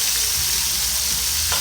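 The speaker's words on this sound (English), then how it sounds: "now while those are frying," Shrimp frying in hot oil for a po' boy, giving a steady, close sizzle that holds evenly throughout with a brief louder burst at the very end.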